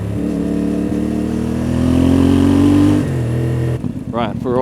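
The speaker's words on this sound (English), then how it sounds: "I want to get used to riding on the bike with all of that weight on" Motorcycle loaded with panniers and camping gear for an adventure rally, engine droning loudly as it rides, pitch rising with revs before easing off; a voice speaks near the end.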